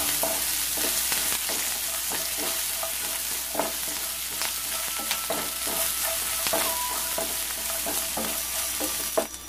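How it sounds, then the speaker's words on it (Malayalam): Curry leaves and green chilies sautéing in a pan for prawn theeyal, producing an even, close sizzle with regular spoon taps and scraping, with no speech. "കറിവേപ്പില, ഇതൊന്ന് നന്നായിട്ട് വഴറ്റിയെടുക്കാം."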